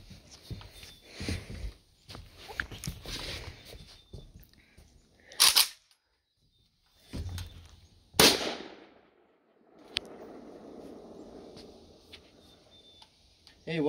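An Izhmash Saiga .223/5.56 rifle fires two loud, sharp, separate shots outdoors a few seconds apart, with someone talking before and between them.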